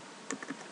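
Typing on a computer keyboard while writing code, a few quick close key clicks in a short burst.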